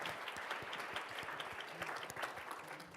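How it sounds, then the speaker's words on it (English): An audience applauding at a talk on digital-age mindset, steady dense clapping from a room full of people that carries on evenly throughout. "So a round of applause for if any of you are in the room."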